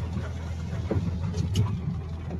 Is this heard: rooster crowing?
no